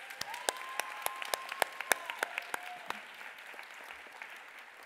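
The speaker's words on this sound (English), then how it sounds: "So let's give them another round of applause." Sparse, scattered clapping from a few hands at an HRC Foundation Time To THRIVE conference, fairly quiet with distinct individual claps and a faint tone in the background.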